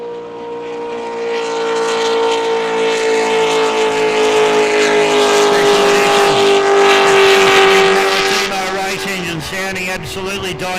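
A loud, high-pitched twin supercharged racing powerboat engine screams past during an Australian Super Boat Series race at Geelong and slowly drops in pitch as it recedes, with a roaring wash of noise underneath.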